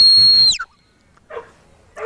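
A high-pitched dog training whistle gives one sustained, loud stop blast. It slides downward as it ends, and a couple of brief fainter sounds follow.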